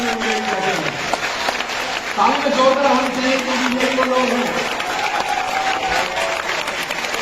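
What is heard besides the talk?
audience clapping for the team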